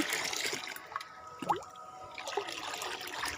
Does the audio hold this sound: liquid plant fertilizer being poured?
yes